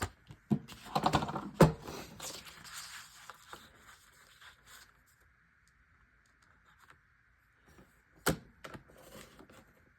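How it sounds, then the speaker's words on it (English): A paper trimmer slices through paper for a scrapbook layout: a quick scraping glide of the blade with clicks near the start, quiet for a few seconds, then one more short sharp cut near the end. "I'm cutting to where I see my previous cut line is"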